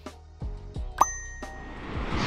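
A bright notification bell chime rings out once, clear and prominent, among a few soft plopping sound-effect hits with no speech.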